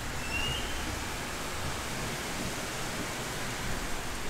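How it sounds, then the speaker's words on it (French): Steady, dense wash of monsoon rain in Da Nang, Vietnam, with a broad windy roar, constant and fairly loud throughout, no voices. "Là il y a vent plus pluie."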